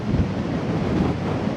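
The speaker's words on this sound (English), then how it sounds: "It is so difficult to cycle against this wind." Strong wind roars across the microphone of a cyclist riding against a gale on a Thailand road, a dense, steady buffeting rumble with no voices.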